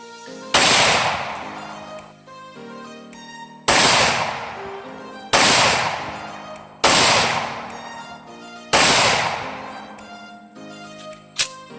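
Gunfire on a firing range during a qualification course: five loud, sharp shots spaced roughly one and a half seconds apart, each ringing out with a long echoing decay and a faint tonal hum behind, no talking.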